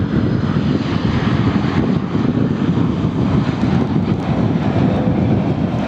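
An American Airlines Airbus A321neo arriving from Charlotte Douglas comes in to land, its loud, steady engine roar close and continuous throughout with no talk over it.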